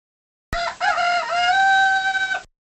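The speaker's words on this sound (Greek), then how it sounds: "Είναι ένα κοκοράκι." A rooster crows once, starting abruptly and drawing out a clear, bright, harmonic cock-a-doodle-doo for about two seconds, with silence before and after.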